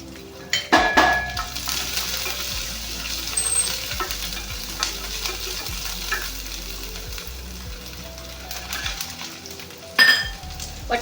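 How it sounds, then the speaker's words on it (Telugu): Black pepper and garlic fry in hot oil in a pan for a spice powder, giving a steady close sizzle with stirring scrapes and a few metallic clinks of utensil on pan. "మిరియాలు ఎల్లిపాయలు బాగా ఫ్రై చేసుకుందాం"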